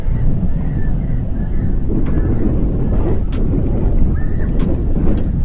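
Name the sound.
wind blowing outdoors while fishing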